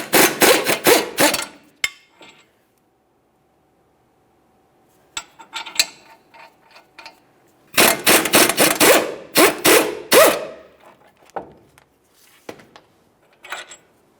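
Three 15mm mounting bolts come off the steering knuckle of a 1999-2006 Chevrolet Silverado 1500, heard as close bursts of rapid ratcheting clicks separated by quiet pauses and scattered metallic taps.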